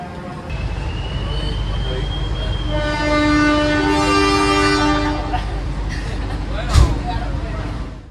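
A passenger train pulls away from Solo Balapan station at night, its horn sounding in long sustained harmonic blasts over steady rolling rumble, with a sharp clank near the end.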